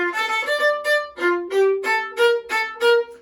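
Solo viola playing pairs of quick 16th notes on each printed 8th note, giving a clear short-short pulsing rhythm of bowed pitches, close and with no other sounds.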